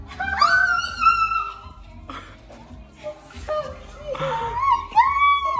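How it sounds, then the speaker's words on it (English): A newly gifted puppy whimpers in high, wavering whines, with short bursts at the start and again near the end, under excited talk and laughter from people close by. "You guys got a puppy."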